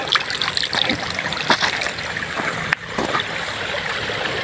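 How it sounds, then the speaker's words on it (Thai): Mountain runoff stream flowing after rain, a steady close rushing and splashing of water with a few sharper splashes and a brief knock, no voices. "โอ้นี่คือ น้ำไหลลงจากเขา"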